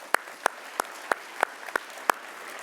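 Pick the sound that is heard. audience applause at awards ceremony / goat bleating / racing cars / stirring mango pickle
audience applause at awards ceremony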